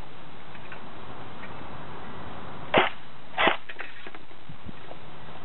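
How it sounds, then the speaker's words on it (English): JG/Star Ika Zuchi airsoft gun firing: two sharp, loud shots about half a second apart, fairly near, against a faint background hiss, with no talk. "This thing has such a high rate of fire, I do not think my chrono got it right."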